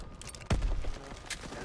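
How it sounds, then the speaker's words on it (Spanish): Scattered background gunfire in the Call of Duty WWII video game: one sharp shot stands out partway through against a steady bed of distant ambient battle noise. "Yo me rayo porque suenan disparos randoms, tío, de repente."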